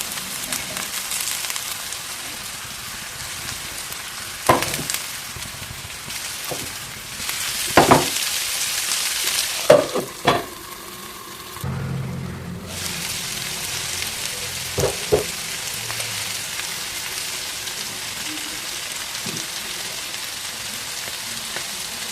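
Broad beans and onions fry together in a pan, a continuous moderate sizzle with occasional stirring clatters and a short quieter lull partway through.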